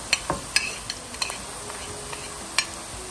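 Onion and spices, including turmeric, chili and salt, sizzle in hot oil for an old Dhaka fish head curry, with a steady fry broken by sharp stirring scrapes and clinks, close and alone.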